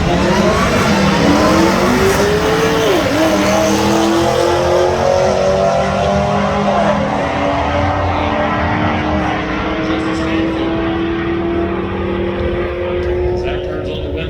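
Drag racing at US131 Motorsports Park with a 2015 Dodge Challenger in the left lane: loud, sustained engine roar with rising, shifting pitch as cars launch and pull away down the strip.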